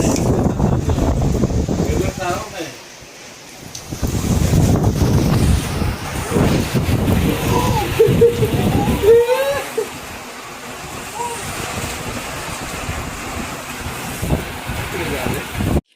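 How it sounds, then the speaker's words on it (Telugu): Gusty wind roars and buffets the microphone with a steady rush of rain-like noise, while a voice and bits of speech come through. "ఇట్లా డోర్ ఓపెన్ చేయగానే కొట్టుకొస్తుంది గాలి వర్షమంతా."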